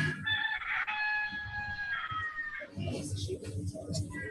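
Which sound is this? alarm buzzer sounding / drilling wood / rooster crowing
rooster crowing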